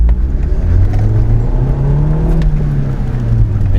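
A car engine revs up to 4,000 RPM in first gear during driving practice, giving a loud, continuous droning roar whose pitch climbs and holds high, heard close from inside the vehicle.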